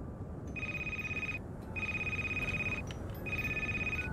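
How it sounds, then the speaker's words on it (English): A telephone rings in a Christmas-themed video game, three even bursts of electronic trilling separated by short gaps, heard clearly over a faint steady background hiss. "Even in video games, I don't want to answer the phone."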